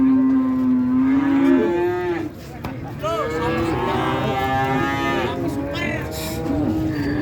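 Simmental cattle moo repeatedly at the Jetis cattle market in Ponorogo, loud and close, one long low call followed by several overlapping moos amid market murmur and a vehicle in the background.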